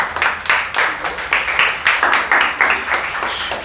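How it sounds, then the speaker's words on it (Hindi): A class of children claps rhythmically together in a classroom, a steady run of sharp, fairly close claps that keeps going throughout without any talking. "बच्चों तालियां"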